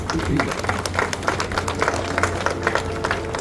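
Scattered audience clapping breaks out during a speech about a director, a short ripple of applause mixed with crowd noise.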